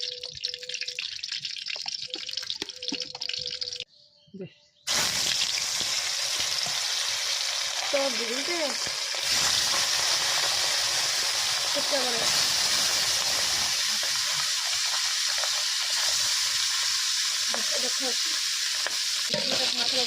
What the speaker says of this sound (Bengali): এখানে মাছের ফ্রাইটা আমাদের কিন্তু হয়ে যাচ্ছে, দেখতে পাচ্ছেন